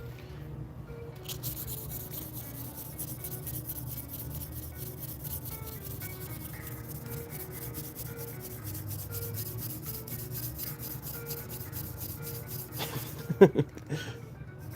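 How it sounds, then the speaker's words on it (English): A key is polished with a steady, even rubbing hiss that runs almost unbroken for the whole stretch, quiet and close, ending with a few brief louder scrapes. "right now we're polishing this key"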